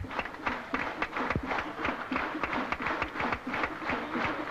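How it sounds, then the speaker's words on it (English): England cricket players and the crowd applaud a batsman reaching his fifty in a 1982 Test match in Sri Lanka. The clapping is steady and moderately distant, a patter of many hands that carries on throughout. "England players applauding him."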